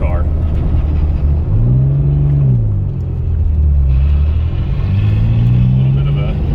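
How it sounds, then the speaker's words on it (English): A 2001 Porsche 996 Turbo pulls away on a light throttle in traffic, its engine note rising and swelling in a smooth, loud drone heard from inside the car. "Just put your foot down and it just accelerates away like a normal Porsche."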